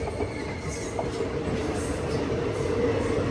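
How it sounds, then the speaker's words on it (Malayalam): The Andaman Express, a long-distance passenger train from Katra to Chennai Central, runs along with a steady, moderately quiet rumble of wagons and faint wheel squeal, with no talking. "കട്രയിൽ നിന്ന് തമിഴ്നാട്ടിലെ MGR ചെന്നൈ സെൻട്രലിലേക്ക് പോകുന്ന ആന്തമാൻ എക്സ്പ്രസ്."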